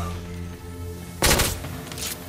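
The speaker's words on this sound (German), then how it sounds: "Huch, wer schießt da?" Gunfire in the video game The Order: 1886: a sudden loud burst of rapid shots lasting a fraction of a second, then a fainter echoing tail, breaking over steady game music.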